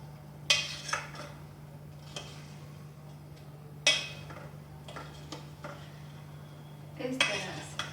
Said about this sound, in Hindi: हल्का सा एक बार चम्मच हिला दें कि कोई भी पैंदे पे चिपका ना रहे।